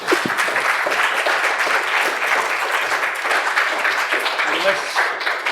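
Sustained audience applause following a university inaugural lecture, dense steady clapping from a large crowd filling the whole stretch at strong, even loudness.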